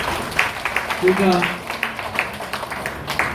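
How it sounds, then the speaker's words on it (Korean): Scattered hand claps from an audience at a Buddhist monk's dharma talk, a few sharp, fairly even claps under a man's continuing speech. "박수 한번 쳐주세요."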